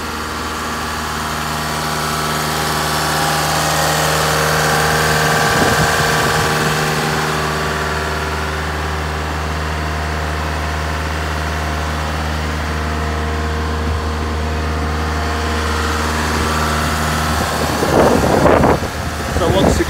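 A Land Rover Evoque 2.2 diesel with a DPF fault idles continuously at held revs, steady and rumbling with a low droning hum; faint voices and some clatter come in near the end.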